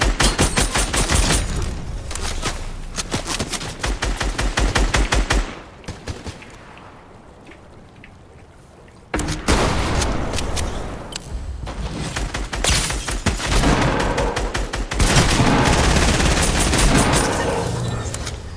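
Rapid bursts of gunfire in Fortnite, dense loud volleys of shots that pause briefly midway before resuming in heavy repeated fire.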